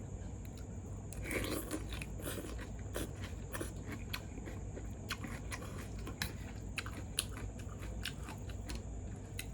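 Someone eats Mama instant noodles with blanched vegetables up close, a run of crisp, irregular bites and chewing crunches over a faint steady hum, with no one speaking.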